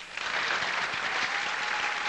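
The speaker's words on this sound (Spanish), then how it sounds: "Bueno, público, el aplauso para Nery." A 1995 Salvadoran TV variety show studio audience applauds a contestant, dense sustained clapping that swells in quickly and holds steady, with little talk.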